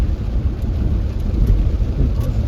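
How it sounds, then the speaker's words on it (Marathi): Heavy rain with thunder pours steadily, a deep, continuous rumble underneath, a dense roaring wash of water with no voices. "खूप पाऊस आलाय"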